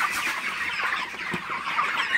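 Broiler chickens, 34 days old, cluck in a dense, steady flock chatter at close range, with a few sharper individual calls rising above the continuous background of birds.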